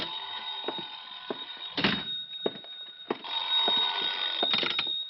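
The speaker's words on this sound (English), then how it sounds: "I think that's my phone." Telephone ringing in an old-time radio detective drama: a bright repeating electric bell in bursts with short pauses, fairly close, over faint background sounds and brief knocks.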